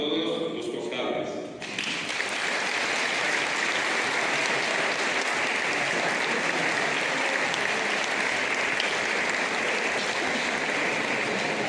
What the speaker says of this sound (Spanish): damos un aplauso a todos los cofrades